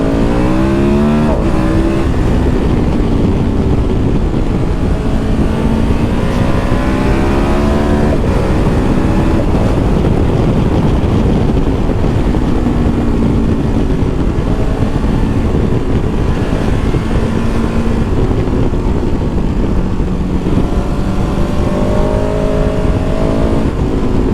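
A 2023 KTM 1290 Super Adventure S motorcycle engine heard while riding, loud and close throughout, with a steady drone and repeated rising and falling revs as the rider shifts through the gears.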